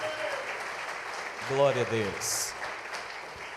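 A church congregation applauds at a morning service, steady clapping running throughout while a voice speaks briefly over it.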